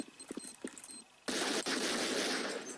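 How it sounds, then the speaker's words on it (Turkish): Sustained automatic gunfire from a Counter-Strike 1.6 firefight bursts in loudly after a moment of quieter game sounds, then continues as a dense, nonstop rattle. "Şu an şu an çatışmaya girdik."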